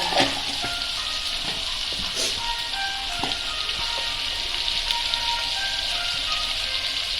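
Kashmiri red chili powder and masala spooned into hot oil for a crab curry, giving a steady bright sizzle and crackle close up, with faint clinks of the pan and spoon throughout.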